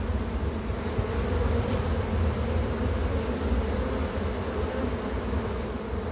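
Many honeybees drone in a dense, continuous buzz in autumn, steady and fairly soft, with no voices.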